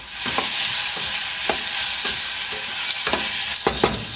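Garlic, white onion and tomato fry in cooking oil, giving a steady loud sizzle with several sharp stirring scrapes at irregular intervals, no voices.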